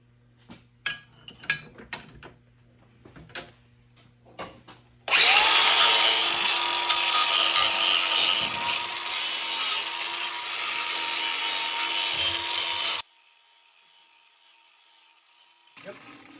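A power tool scrubs surface rust off a demolition derby car's steering column in one loud, continuous grinding burst of about eight seconds, framed by scattered clicks and knocks before and after.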